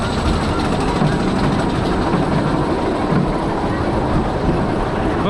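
Roller coaster train at Parc Asterix rumbling steadily along its track, a dense, loud, continuous roar with rattling and clatter that never lets up across the ride.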